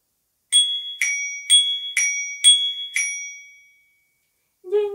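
Six bright metallic bicycle bell rings in a steady rhythm, each with a ringing tail, then a short different tone at the very end.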